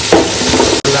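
Green chillies fry in a pan of hot oil for Chettinad country-chicken rasam, giving a close, steady sizzle with a brief stirring scrape and a momentary cutout near the end.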